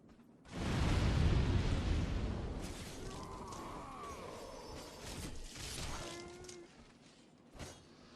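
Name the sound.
fire barrels thrown and exploding in video game Demon's Souls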